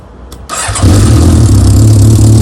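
A motorcycle engine starts with a brief cranking burst and then settles into a loud, steady close-up idle that runs without pause.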